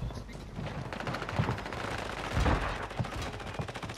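Call of Duty gunfire, a steady stream of rapid automatic shots with heavier booming hits, dense and continuous throughout.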